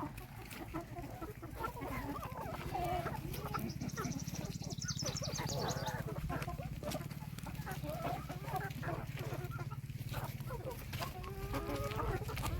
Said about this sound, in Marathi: कोंबड्यांचं बका बका बका बका पालं खायचं चालू आहे.